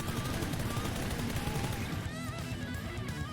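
Sustained automatic spray fire in PUBG, a rapid unbroken stream of gunshots from a weapon fitted with only two attachments, loud and dense for the full few seconds, with a faint tone sweeping underneath.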